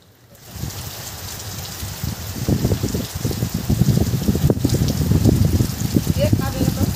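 Steady monsoon rain in the Sundarbans during the rainy season, a dense continuous patter that swells after the first half-second and holds loud and close throughout, with irregular louder drops and splashes.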